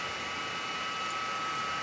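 A 3018 CNC machine runs with a steady, close, airy whir and a thin sustained whine after a Z axis repair, even and unbroken throughout.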